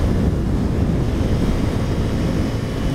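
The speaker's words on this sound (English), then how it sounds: "So you do get a lot of wind right now" Wind buffets the microphone on a Ducati Scrambler Cafe Racer cruising at highway speed, a loud, steady roar of rushing air that drowns out everything else, with no talk.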